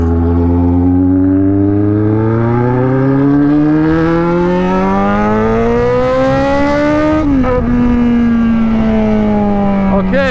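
A Yamaha XJ6 motorcycle accelerates hard in Brazil, its engine note climbing steadily through the revs for several seconds before a brief dip at a gear change and a renewed rise, loud and close throughout.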